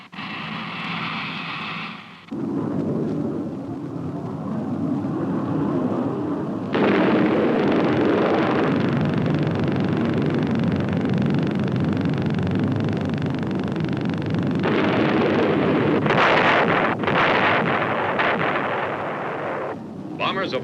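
Loud, sustained rumbling blasts from bombs exploding after a bomber's drop in a simulated 1958 USAF wargame, a dense roar that swells around a brief gap and rolls on continuously with bursting peaks near the end.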